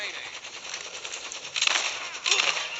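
Sniper rifle fire in the shooter video game Blitz Brigade, a few sharp bursts standing out against a dense, busy bed of game noise and effects.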